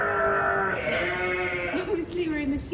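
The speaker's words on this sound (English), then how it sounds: "Obviously we're in the sheep shed, so hopefully they'll be secured." Sheep bleat repeatedly inside a sheep shed on a farm, several overlapping calls close by, with people talking in the background throughout.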